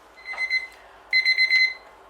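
A kitchen timer alarm rings in two short bursts of rapid high electronic beeping separated by a brief pause, loud and close with no talking, after cream puffs go back into the oven.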